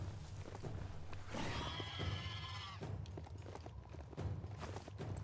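A horse neighs loudly in a game, a clear rising whinny in the middle of the clip, with hoof clops and background game sounds around it.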